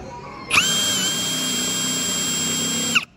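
A Ryobi cordless drill whirs steadily as it drives a screw, a sharp high-pitched motor whine starting abruptly and holding level for about two and a half seconds before cutting off cleanly.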